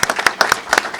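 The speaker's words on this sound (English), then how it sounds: "let's give a big round of applause to Tom Fay" Clapping from an audience at a library branch reopening celebration, a brief burst of scattered hand claps from a small crowd, moderately close.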